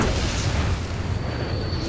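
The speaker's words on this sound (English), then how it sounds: "I'm gonna use my glide bomb right now" A glide bomb detonates in a World War II shooter, a dense, sustained roaring boom that fills the whole moment with heavy rumble and crackling debris.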